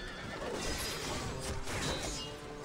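Horses neigh amid battle noise as knights are pulled from their mounts in the video game Warhammer: Mark of Chaos, with whinnies woven into a dense, continuous wash of clashing and rumbling combat sound.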